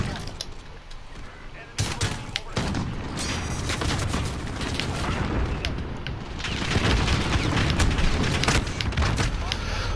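A VTOL jet fires on the player in Call of Duty: Modern Warfare, a dense, continuous barrage of booming blasts and explosions that swells loud and heavy near the end.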